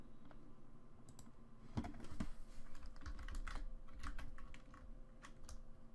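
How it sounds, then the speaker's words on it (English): Quiet, steady typing on a computer keyboard with irregular key clicks throughout, nearby and faint. "I'm not sure if I'm typing this in right"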